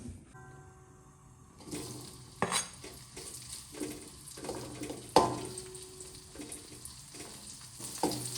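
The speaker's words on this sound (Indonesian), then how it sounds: "kemudian tempenya kita goreng" Tempe fries in a pan with a steady, close sizzle, punctuated by metallic clinks and scrapes of a utensil stirring against the pan.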